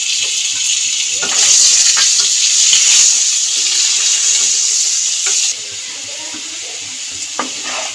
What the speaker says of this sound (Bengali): আলুগুলো একটু নুন একটু হলুদ একটু নুন দিয়ে ভেজে নেব হালকা করে